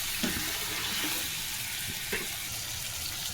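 Water is poured into a pan of chicken curry with tender tamarind leaves, giving a steady, close rushing pour with a faint sizzle underneath and no talk.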